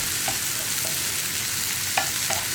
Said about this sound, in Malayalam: 1 മിനിറ്റ് ഒന്ന് ഇളക്കി കൊടുക്കുമ്പോൾ തക്കാളിയൊക്കെ ഒന്ന് കുക്കായി തുടങ്ങും